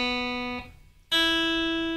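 Open guitar strings ring out in two sustained, clean tones, one after another. The first note is cut off and a brief gap follows before the second string sounds close and clear until the end.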